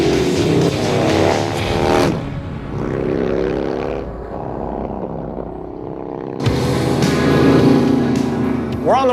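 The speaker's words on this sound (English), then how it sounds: "We're on the way to show this FXR to my Harley wheelie guy, Joe." A Harley-Davidson FXR motorcycle engine runs loud and close, its throttle easing off around two seconds in, then surging back into a strong rev near the end.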